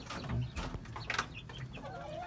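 A brooding hen sitting on ten eggs clucks in low, close bursts over a steady farmyard background, with soft rhythmic calls scattered through a couple of seconds.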